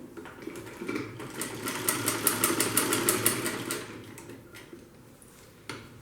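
A sewing machine stitches a handbag in one steady, rapid run of close mechanical chatter that fades out toward the end and is followed by a faint knock.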